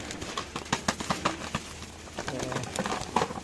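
Racing pigeons coo softly nearby in repeated low calls, mixed with light flapping and scuffling.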